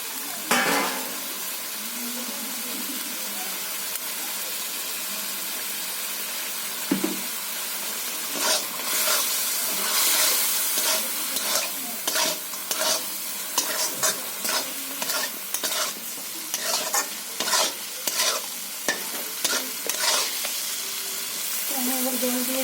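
Eggplant pieces go into a spiced masala frying for hilsa curry, with a steady sizzle and repeated scraping strokes of a spatula against the pan, close and busy.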